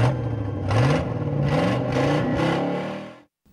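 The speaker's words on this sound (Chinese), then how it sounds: "Car。" A car engine whirs and revs steadily, with pulsing surges near the microphone, then cuts off abruptly to near silence at the end.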